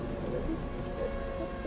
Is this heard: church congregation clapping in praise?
no